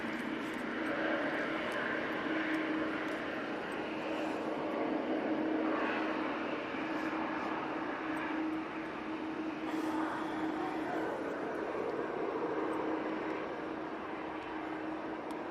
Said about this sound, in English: Ryanair that's coming in from Cork. Let's get that one.